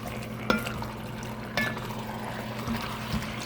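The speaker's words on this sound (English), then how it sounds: "So now I'm stirring it." Raw pork pieces being stirred with spices in a pan for a stir fry: a low wet simmer underneath, with a few distinct scraping clanks of the utensil spaced out, no talking.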